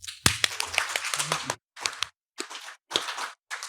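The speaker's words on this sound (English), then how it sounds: "I will bid them adieu with an applause." A short burst of clapping from a small group at a convention Q&A session, sharp claps for about a second and a half, then scattered, uneven claps trailing off.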